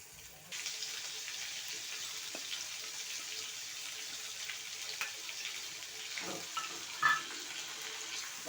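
A hard lump of butter fries in a kadai on the way to becoming ghee, giving a soft, steady sizzle that starts abruptly and carries a few small pops and clicks near the end.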